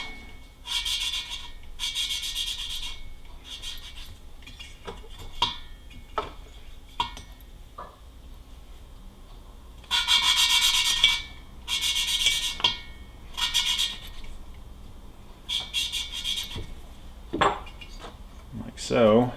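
Porsche 912 engine valve being lapped onto its seat with silicon carbide grinding compound, a repeated gritty rubbing and rasping in bursts with brief metallic clinks between strokes, close and fairly loud, with no talk.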